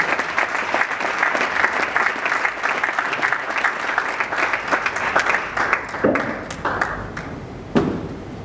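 An audience at a book launch applauds a speaker's arrival, sustained crowd clapping that thins toward the end with a few louder isolated claps.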